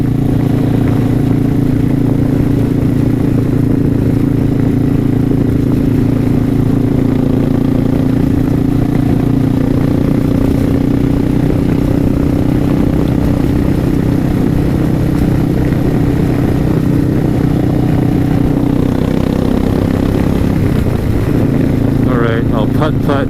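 A Suzuki S40 motorcycle rides along Uvas Road stuck in third gear, its engine giving a loud, steady drone that runs unbroken for the whole stretch under constant wind rush.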